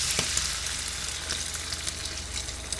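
Beef broth hits a hot pan with beef in oyster sauce, setting off a steady, close hissing sizzle with small crackles throughout and no voices.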